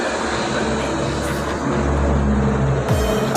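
A Suzuki Sniper 155 motorcycle with a worn stagger arm that has play runs with a loud exhaust. It makes a steady, close, droning hum throughout, with a brief shift in tone near the end.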